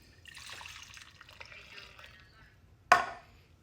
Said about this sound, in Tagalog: And then 400 ml ng soya. Ibuhos mo lang dyan.